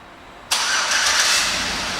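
A 2007 Chevrolet Suburban LTZ engine starts by remote start, a sudden loud catch at about half a second that settles into a steady, close idle with no talking.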